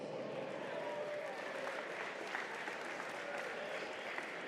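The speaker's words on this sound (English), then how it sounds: "Let's give another big round of applause" Steady crowd applause with some cheering at a cagefighting event, sustained and even for several seconds, heard at a moderate distance.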